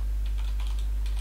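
Typing on a computer keyboard while writing Java code, a quick run of light clicking keystrokes over a steady low hum, close and clear with no talk.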